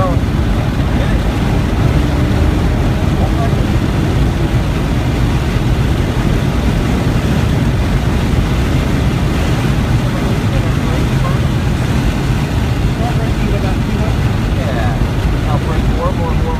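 A car accelerates hard down the straight at the Circuit of the Americas Formula One track, a loud continuous engine roar mixed with heavy wind rush, steady throughout with no pauses.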